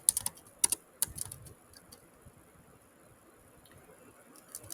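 Light, clicky keystrokes on a computer keyboard, a few quick clusters of taps at the start, then sparse faint clicks, close and quiet with no talk.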